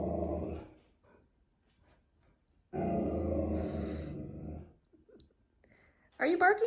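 Indoors a dog reacts to a humidifier with low growls and grunts, a long rumbling growl in the middle, then a sharp yip at the end, all close to the microphone.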